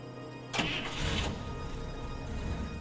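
A car engine cranks and catches with a sharp burst, then settles into a steady running drone as the car pulls away, fairly close and alone with no voices.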